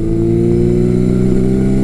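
Yamaha XJ1100 Maxim motorcycle fitted with a custom 4-2 exhaust, revving with a steady, loud, close engine drone holding even tone throughout.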